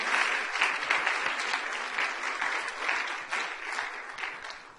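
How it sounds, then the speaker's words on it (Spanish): A church congregation claps together for the Lord during a sermon, a dense, steady wash of applause that holds at an even level throughout with no voices over it. "Que le dé gloria ese aplauso al Señor."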